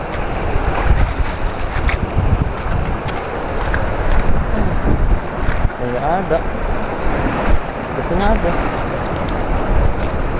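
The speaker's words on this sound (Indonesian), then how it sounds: "Di Aceh Selatan nih ngeri ombaknya guys" Strong sea waves washing on the South Aceh coast at Seuru beach, a loud steady surge with heavy wind buffeting the microphone while people talk nearby.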